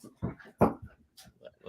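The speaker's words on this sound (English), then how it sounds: "I've just got so many dogs now." Several dogs in a home give short barks, yips and whimpers in quick bursts, loud and close, with quiet gaps between the calls.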